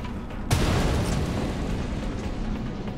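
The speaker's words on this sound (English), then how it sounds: "here comes the chain reaction of explosions" In the video game XCOM: Enemy Within, a sudden heavy boom hits, then a dense, rumbling roar of a chain of overlapping explosions rolls on steadily without letting up.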